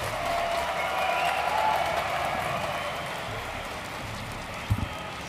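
A crowd at a DreamHack StarCraft 2 grand final cheers and applauds as a steady, distant wash of clapping and noise that fades slightly, with no talk over it.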